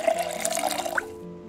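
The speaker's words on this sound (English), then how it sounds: "Just top off my water." A water container being refilled in a video game, a short gurgling pour of liquid lasting about a second and quickly fading into quiet.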